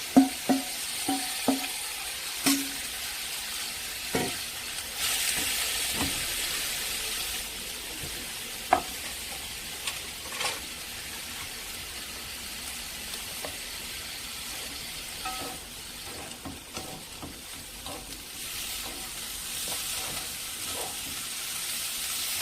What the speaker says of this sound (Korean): 이렇게 볶아질 때 양념에 재워둔 고구마 줄기를 여기다 넣어줘요